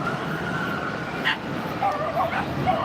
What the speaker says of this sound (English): And you hear dogs barking.